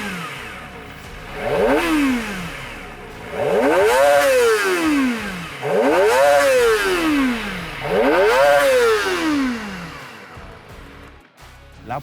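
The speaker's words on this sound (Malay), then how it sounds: "Sekarang ni kita nak dengar pula macam mana bunyi bagi Modenas ZX25R versi SE." A Modenas Kawasaki ZX-25R SE 250cc four-cylinder motorcycle engine revs four times from idle, each blip climbing to a high-pitched scream and falling back, loud and close, before settling to idle.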